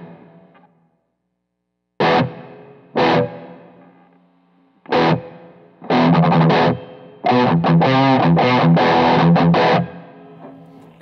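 Electric guitar played through a Zoom G1XON multi-effects pedal with reverb, in loud strummed bursts and chords separated by short pauses, with distorted tone and a reverb tail after each hit.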